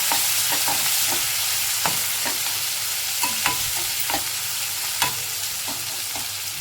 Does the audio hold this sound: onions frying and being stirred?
yes